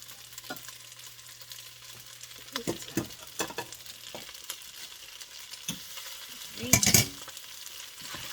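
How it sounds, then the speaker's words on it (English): Broccoli stirred into hamburger meat frying in a pan, a faint low sizzle with a series of clicks and scrapes from stirring and one louder clatter near the end, no voices. "And then just stir in the broccoli."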